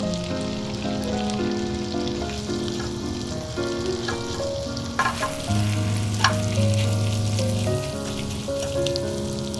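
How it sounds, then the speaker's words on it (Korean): Beef sizzling hard as it fries in butter in a pot over the highest heat, a steady crackling hiss throughout with a few sharp pops and stirring clatters, no talk. "불을 제일 세게 올리고 소고기를 다 부어서 모든 면을 골고루"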